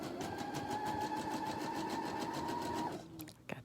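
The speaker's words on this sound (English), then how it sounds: "And then I would stitch close to this cut edge here." A sewing machine runs steadily for about three seconds, stitching a zigzag close to a cut fabric edge while finishing a seam, a close, even mechanical whir with rapid repeating needle clicks, then stops, followed by a couple of faint handling clicks.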